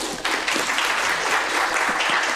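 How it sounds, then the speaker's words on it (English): A crowd applauding steadily, dense overlapping claps filling the whole stretch at a loud, even level. "Let's give them a big round of applause."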